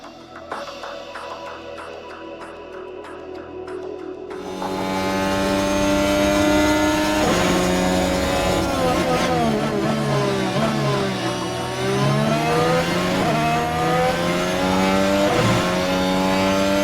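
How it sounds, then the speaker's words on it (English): A Formula 1 car laps the Miami Grand Prix circuit, its engine climbing from a quiet start into a loud, close, high-pitched scream that rises and falls through repeated gear changes and braking. "And speaking on Max Verstappen, he'll take us on the circuit lap for the Miami Grand Prix"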